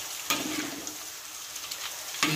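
Baby green beans frying in hot oil in a pan, a steady close crackling sizzle with a few sharper stirring clatters at the start and end.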